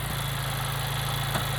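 A 1.5 liter engine in a 2025 Honda Civic Si idles in an open engine bay with no engine cover, a steady, close, loud hum with even low pulsing and no speech.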